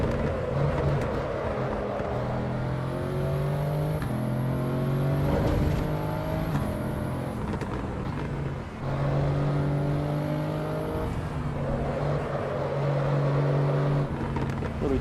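A car in a driving video game drifts with a sustained whining engine note and a long tire squeal that fades briefly, then returns and holds steady.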